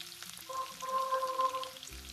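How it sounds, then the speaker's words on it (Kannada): Onions frying in a pan for chilli chicken, a soft steady sizzle with faint stirring, fairly quiet and brief. "ಈರುಳ್ಳಿ ಸ್ವಲ್ಪ ಫ್ರೈ ಆಗಲಿ."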